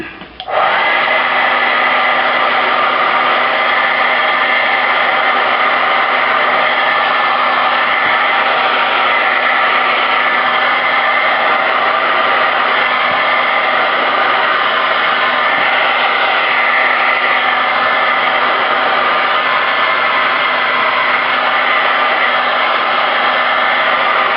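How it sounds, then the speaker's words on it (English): A blow dryer runs continuously at close range over a tape-sealed wrapped glycerin soap, a loud steady whir with a constant hum underneath, unbroken for the whole stretch. "And then take the blow dryer to it."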